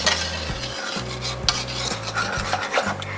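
A spoon stirs a milk mixture in a pot to dissolve powdered milk for blue ternate ice candy, giving steady rasping, scraping strokes against the pot in a repeating rhythm, close and moderately loud.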